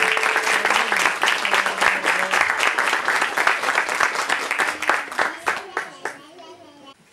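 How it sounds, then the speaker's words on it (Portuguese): Sustained applause from an audience at a student music recital greets the violinists, dense steady clapping that fades toward the end, with a few voices audible. "Uma salva de palmas para todos os violinistas."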